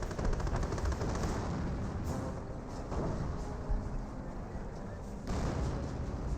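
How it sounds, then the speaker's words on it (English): Artillery and gunfire rumble through a Company of Heroes battle, a steady, dense barrage of booms and rattling shots with a few sharper blasts standing out over the continuous din. "Artillery running in somewhere."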